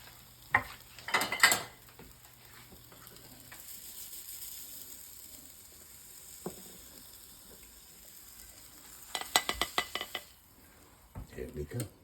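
An egg white omelet frying in a pan gives a soft, steady sizzle, broken by clinks and scrapes of a utensil against the pan in short clusters near the start and end.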